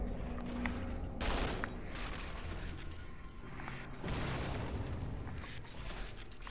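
Bombs explode repeatedly in Duke Nukem Forever, a dense barrage of booms and bursts layered over continuous gunfire and mechanical clatter, steady and loud throughout with several sharper blasts.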